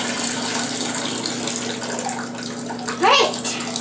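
Shower water pours steadily into a bathtub that is already filled, a constant close rushing splash that runs throughout with a brief rise near the end.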